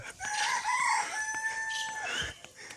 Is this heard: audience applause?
no